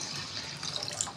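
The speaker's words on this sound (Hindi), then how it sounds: "साथ में मैं इसमें डालूँगी तकरीबन 2 गिलास पानी" Water poured into a pot of masoor and moong lentil dal with chopped tomato makes a steady close splashing trickle with a few bright drips, heard alone.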